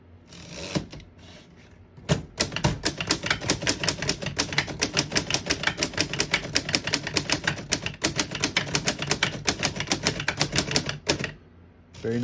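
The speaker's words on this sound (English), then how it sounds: "I'll type a sentence in red on the next line." Rapid, steady clacking of keys on a 1926 Corona Four antique portable typewriter, close and crisp, running continuously for about nine seconds with a few louder strikes near the start.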